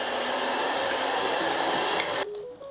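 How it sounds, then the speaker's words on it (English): Electric hand mixer beating room-temperature butter and brown sugar in a bowl, a loud, steady close whir that winds down and stops near the end. "add some room temperature butter into a bowl, brown sugar. We're going to beat this until it's pale and creamy."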